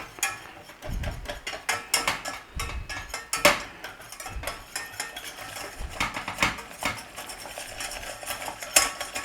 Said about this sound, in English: Just melt your butter up as that flour cooks